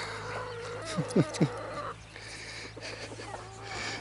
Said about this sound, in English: I'm watching these chickens here